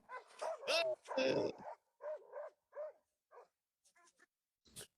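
A dog gives a run of short, sharp barks and yips at close range, with voices mixed in at the start and the barks growing sparser and quieter toward the end.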